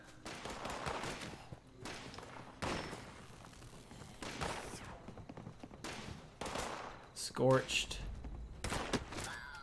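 Gunfire in the video game Fallout 76 during an event against scorched enemies: repeated bursts of shots at moderate distance, mixed with game noise and a brief spoken word.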